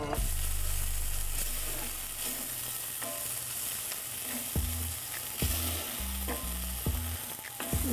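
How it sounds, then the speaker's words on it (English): Chopped green chilies frying in a pan for red bean curry, a steady close sizzle throughout with several spoon-scrape stirring knocks toward the end, no talking. "Give it a stir and cook it for about a minute or so."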